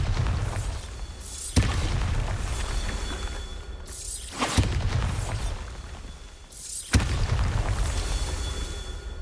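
Three booming Bombarda blasting-spell explosions in Hogwarts Legacy, each a sharp loud crack with a shattering burst that trails off, spaced a few seconds apart over ambient game sound.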